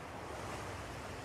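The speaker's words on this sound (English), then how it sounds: "We got the ambient beach sound once he was done speaking." Steady wind buffeting the microphone over a continuous wash of ocean surf, a broad constant roar with no voices.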